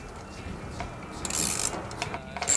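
A nut with a lock washer is snugged down on an instrument control panel, giving a few faint ratcheting, scraping metal clicks. The clicks come in short bursts with no talking.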